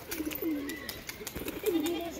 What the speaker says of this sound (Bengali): এটা একটা সাদা বিদেশি পায়রা